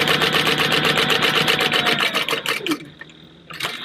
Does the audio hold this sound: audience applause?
no